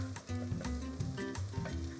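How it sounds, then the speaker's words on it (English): Chicken sizzles in hot olive oil up close, a dense crackling hiss with rhythmic scraping and stirring strokes. "Oh, sizzle."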